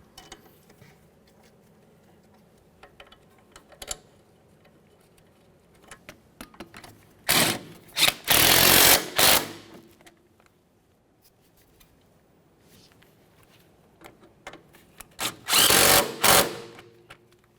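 Power tool snugging strut mount bolts on a 1994-1997 Honda Accord, heard as two loud drill-like bursts of about two seconds each, separated by quiet with faint clicks and handling noises between them.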